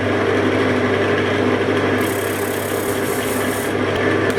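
Wood lathe spinning a sycamore crotch box lid as a tool takes a final light cut, giving a steady motor hum with a continuous scraping hiss.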